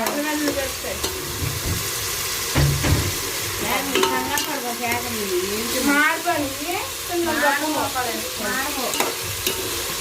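Chicken biryani fries and sizzles in a pan while being stirred, a steady close sizzle broken by scraping stirs, with several people talking over it throughout.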